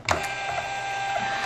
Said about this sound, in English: I'm going to print out a Poshmark label.